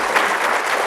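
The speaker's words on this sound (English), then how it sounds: "Please give a round of applause to our speakers today." Brief burst of steady audience applause for speakers at a workplace wellbeing and mental health event, dense and close, with no voices over it.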